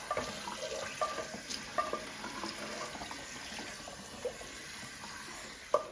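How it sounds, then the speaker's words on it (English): Cooked ground beef is rinsed under a running faucet and drained in a colander, giving a steady, fairly quiet water splash with a few small clinks and spatters nearby. "going into my colander, just going to do this rinse and drain of that extra fat"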